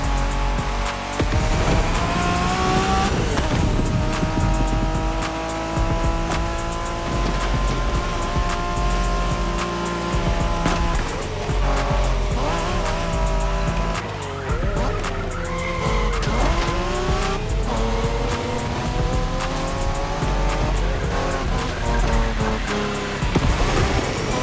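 A Honda NSX races in The Crew Motorfest, with a loud, continuous engine roar and repeated tire squeals and skidding across the whole stretch, no talk.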